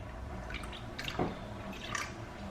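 Cold water running into a Babyliss disinfectant box near its fill line, with soft trickling, a few scattered drips and small splashy bursts, close and moderately quiet.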